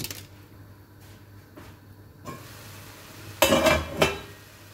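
Menudo mix is stirred into ground chicken in a pan, with faint utensil clinks early on, then a louder burst of scraping and clattering near the end.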